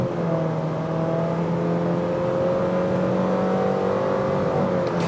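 An aspirated car, a Honda City Touring or Nissan Versa Exclusive, pulling a 0 to 100 km/h run on a test strip, its engine note climbing steadily and moderately loud, heard from inside with no one talking.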